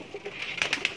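A breeder pigeon gives soft, low cooing, followed by a quick run of four sharp, fluttering bursts close by, with no voices.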